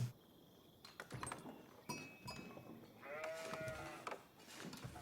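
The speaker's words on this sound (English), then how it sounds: "Okay, sheep pops out." Game sheep bleating in Age of Empires IV, several short bleats over light game ambience and scattered interface clicks, moderately near.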